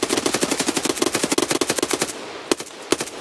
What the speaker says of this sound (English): I'm getting shot at. I don't know from where.